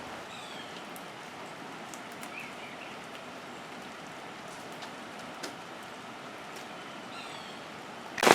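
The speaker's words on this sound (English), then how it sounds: "It's been raining hard for a little while" Hard rain falls steadily outdoors, a soft even hiss of drops with occasional nearer patters, fairly quiet and continuous with no voices.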